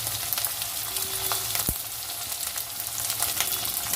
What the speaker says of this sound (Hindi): ऑलरेडी मैं वहाँ पर ऑनियंस डाल दिए थे, वो फ्राई हो रहे थे